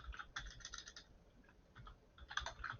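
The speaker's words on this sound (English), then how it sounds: "I'm just gonna start typing right away" Quiet typing on a computer keyboard while drafting a document, with bursts of soft rapid key clicks, a short pause near the middle, then another flurry of keystrokes.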